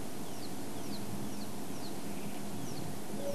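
Soft, low cooing of an emerald spotted dove sounds faintly and repeats several times over a steady outdoor background hiss.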